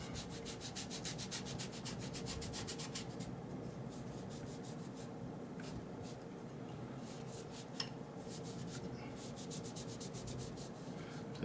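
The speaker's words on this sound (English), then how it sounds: "This is 1000 grit sandpaper, wet sanding paper." Steady rubbing and scraping of wet 1000-grit sandpaper over the parts of a Cold Steel Large Lawman knife, continuous back-and-forth strokes, close up, with no talking.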